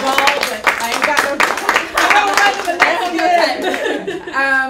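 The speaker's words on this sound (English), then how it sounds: "Give yourself a round of applause." A university performance-art class applauds itself: brisk clapping mixed with chuckles and voices, fairly loud and close, with the claps running under the chatter and laughter.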